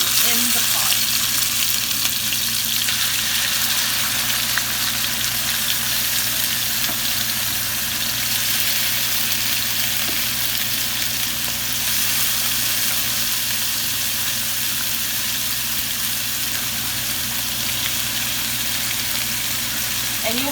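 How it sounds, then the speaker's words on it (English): Chicken pieces sizzle steadily in hot oil in a pot on high heat for Jamaican-style stew chicken, a constant loud frying hiss with no breaks. "you want to hear that sizzle when you put the pieces of chicken in the pot"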